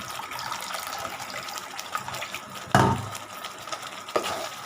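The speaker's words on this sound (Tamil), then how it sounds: "அது கூட வந்து நம்ம தண்ணி சேர்க்க போகிறோங்க." Water pours into a pan of egg gravy with ground tomato, a close, moderately loud trickling splash that swells briefly midway, with kitchen clatter and no talking.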